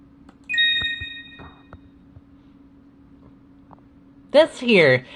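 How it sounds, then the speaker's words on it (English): A synthesized sound effect built from an FM8 synthesizer patch for a flying cat character: a sustained bell-like electronic tone near the start, then a brief burst of rapid warbling, sweeping chirps at the end over a low steady hum. "Chio's dad is always depicted as a cat. And I created this one using a patch from FM8."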